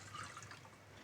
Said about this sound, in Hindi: ये पानी मैं इसमें ऐड कर रही हूँ,